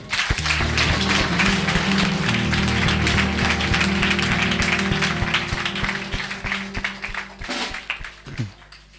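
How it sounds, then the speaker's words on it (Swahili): A church congregation claps together for Jesus during a Sunday service, a dense, loud wash of hand claps over sustained music that carries through the whole stretch before thinning near the end. "Tumpigieni Yesu makofi"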